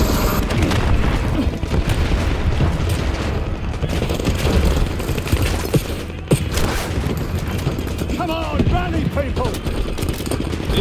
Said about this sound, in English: More rockets incoming!